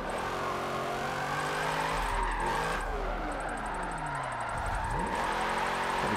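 Nissan Skyline engine in Forza 7 drifting, revving loudly and continuously with rising and falling pitch sweeps as the car slides, steady and close throughout.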